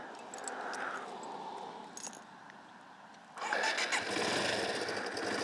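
Yamaha SR125 single-cylinder air-cooled four-stroke motorcycle, a low starter churn followed by the engine catching and settling into a steady, close, fairly loud idle.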